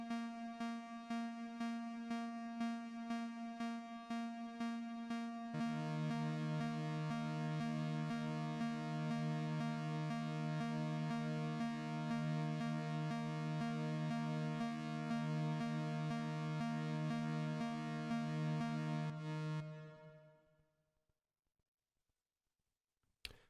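Moog Voyager synthesizer oscillators held as a steady sustained buzzy tone, their levels modulated out of phase by a triangle LFO, with the timbre shifting partway through before the sound cuts off into near silence.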